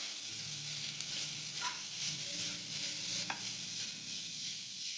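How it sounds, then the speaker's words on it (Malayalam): Sliced onion sautés in a pan with a soft, steady sizzle, and a few gentle stirring scrapes sound close by. "ഇത് നന്നായി സോഫ്റ്റ് ആവുന്നത് വരെ ഒന്ന് വഴറ്റിയെടുക്കാം"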